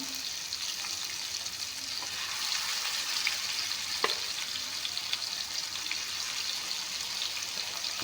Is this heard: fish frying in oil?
yes